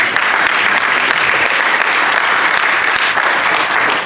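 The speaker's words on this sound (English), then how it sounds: "So let's give Mr. Moore a round of applause." Loud, dense applause from a crowd at a jazz orchestra rehearsal, sustained and steady throughout, with faint voices mixed into the clapping.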